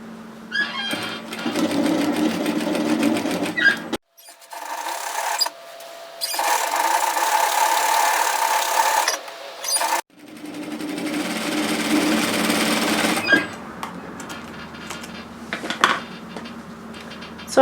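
A serger overlocker stitching fabric binding on a dress neckline runs in three fast, steady whirring bursts, close and loud, with short pauses between them and light handling clatter afterward.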